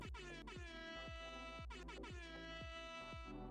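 Air horn blasts sound in a rapid, rhythmic series of short, loud honks, with a few sharp repeated bursts grouped together and no talking.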